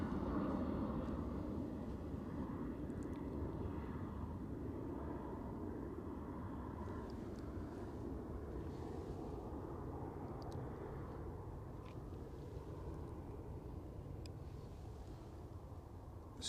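Qatar Airways Boeing 787 Dreamliner arriving at Manchester Airport, heard as a steady, broad jet roar that holds at an even level throughout, moderately distant with no talk over it.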